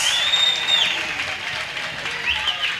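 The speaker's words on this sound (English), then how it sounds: "let's applaud our electrical engineering diploma" An audience at a college graduation ceremony claps for electrical engineering diploma graduates, a dense, sustained round of applause with a faint whistle or cheer rising above it.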